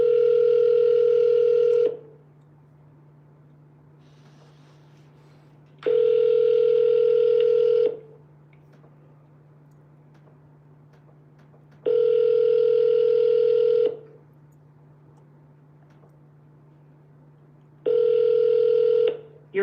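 A phone line ringing out during a call to a Zillow for-sale-by-owner listing owner: four long electronic ring tones, each about two seconds, separated by roughly four-second silences, clear and steady with a faint hum underneath.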